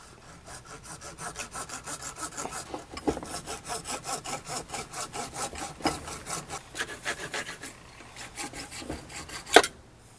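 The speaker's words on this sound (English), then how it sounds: "I will show the cutting of this one" A hand saw cuts a piece for a stabilizer stand in a quick, steady back-and-forth rhythm of rasping strokes, close and clear, ending with a sharp knock.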